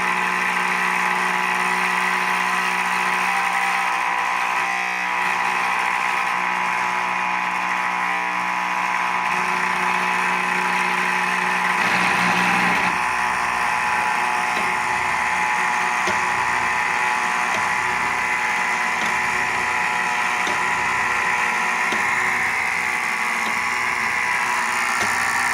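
An automated winding machine for Tesla coil secondaries runs slowly with a steady, close mechanical hum and drone, with faint knocks and rattles now and then.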